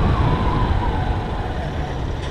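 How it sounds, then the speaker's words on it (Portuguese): A car driving just ahead on a highway, seen from a following small-displacement motorcycle, gives off a loud, continuous engine and road roar mixed with wind, with a faint tone running beneath. "o barulho é esse carro mesmo da frente"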